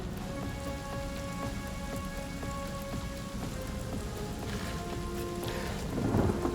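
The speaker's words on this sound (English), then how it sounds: "let's use one of these rain skills, why the hell not?" A rain skill spell cast in Divinity: Original Sin brings a steady downpour of rain hitting surfaces with rumbling thunder, under a faint sustained musical tone, swelling slightly near the end.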